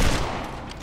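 Machine gun fire in the video game Dead Island, one short dense burst of rapid shots that sounds close and loud and stands alone without speech.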